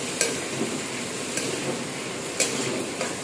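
A spoon stirs a chickpea and potato curry in a pan, a continuous scraping sizzle close up with a few sharper knocks of the utensil against the pan.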